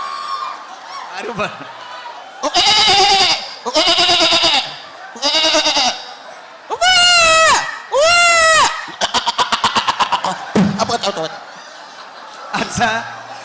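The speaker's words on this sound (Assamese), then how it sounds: "এখাতে ছাগলী চাউণ্ডটো দিব দেই ছাগলী" A goat bleating sound effect played at a comedy show, with a series of loud, wavering bleats and a rapid stuttering one, mixed with chuckling, laughter and some talk between the calls.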